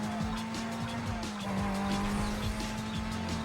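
A car races in a PS2 racing video game, with a continuous droning engine and repeated screeching tire skids, loud and sustained throughout.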